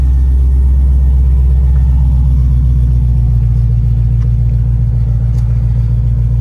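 A car engine rumbles steadily with a deep, loud exhaust drone throughout, close by and constant with no voices.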